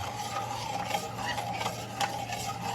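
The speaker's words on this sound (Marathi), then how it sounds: "पुन्हा एकदा जरा आपण असं बरोबर ढवळून घेऊयात म्हणजे मीठ त्याच्यामध्ये व्यवस्थित मर्ज होईल" A spoon stirs a simmering mixture of milk and khoa with salt in a pan, giving repeated soft scraping and rubbing strokes over a low steady hum, with a few brighter scrapes against the metal and no talking.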